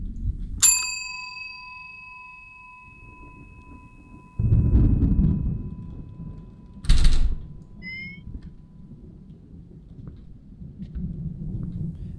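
A doorbell chimes with one loud, bright ding that rings on and fades slowly, followed by a dull thump and a short metallic clang and then faint high chime notes, over low room rumble with no speech.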